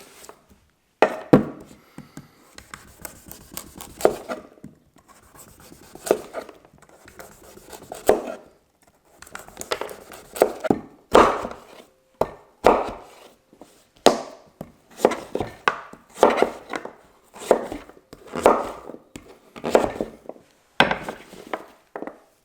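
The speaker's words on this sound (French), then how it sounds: "Vous voyez avec quelle facilité on arrive à éplucher ce butternut." A GiantMouse GMF4 camp knife peels a butternut squash in a series of crisp, rhythmic scraping strokes, close and fairly loud, spaced about a second apart with brief pauses.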